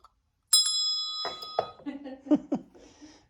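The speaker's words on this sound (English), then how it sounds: "And there's the bell I ring when I want a beer." A bell in a historic house rings once with a bright, clear tone that lingers briefly, and then people start talking close by as the ring fades.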